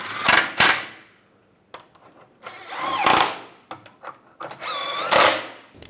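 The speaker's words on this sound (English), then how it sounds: "Snug the steering bolts down." Steering bolts on a Volkswagen Beetle are run down with a power tool in short whirring bursts, several separate spins with brief pauses between, loud and close.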